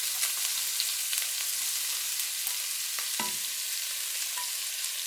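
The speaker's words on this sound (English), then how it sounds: "we're going to put some the vegetable in it, like onions and carrots and gingers in it, to kind of heat it" Onions, carrots and ginger frying in a pan for shrimp fried rice, a steady broadband sizzle with a brief stir or clatter near the middle, heard close and alone.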